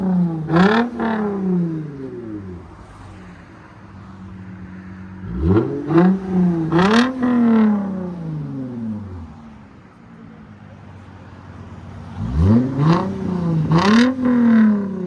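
A Lexus IS 250 with a 2.5L engine and aftermarket exhaust revs up three times, each climbing rev swelling loudly and falling back with crackling pops, a steady idle rumbling between the bursts.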